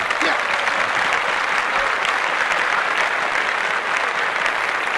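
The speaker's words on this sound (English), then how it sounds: "Clap it up for those fellas, right?" Steady applause from a podcast studio group fills the stretch, dense and continuous throughout, with what may be a voice faintly mixed in underneath.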